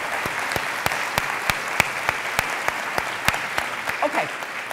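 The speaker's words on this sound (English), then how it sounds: "I was just applauding for creation of an agency" Audience applause in a lecture hall after a speech by a U.S. Senator, a dense steady clatter of many hands with a few sharper near claps standing out, and a voice briefly cutting in near the end.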